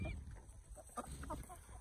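Backyard chickens cluck and squabble close by, jostling ducks over food, with a run of short, uneven clucks and squawks repeating quickly through the moment.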